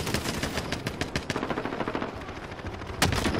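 Rapid automatic gunfire in the shooter game Warzone, dense bursts of loud shots rattling continuously over about three seconds, with a sharper, louder volley near the end.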